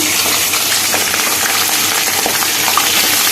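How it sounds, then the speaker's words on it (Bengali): Country chicken and whole spices sizzle hard in hot oil, a loud, dense, continuous frying crackle close by with no voices. "এবার এর মধ্যে দিয়ে দেবো এই যে মাংসটা ধুয়ে পরিষ্কার করে রাখা মাংসটা এর মধ্যে দিয়ে দেবো"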